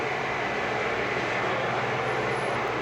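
Steady droning engine roar of a scale model B-25 (Navy PBJ) bomber at a scale aircraft show, continuous and fairly loud throughout with no talking.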